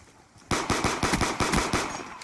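TAC-45 pistol gunfire in Call of Duty: Black Ops II, a rapid run of about ten sharp, loud shots in quick rhythm, following a quieter stretch of game ambience.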